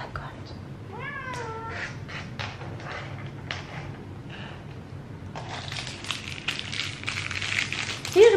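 A house cat meows at close range, a few drawn-out calls early on, followed by scattered rustling and movement indoors while a person speaks softly nearby.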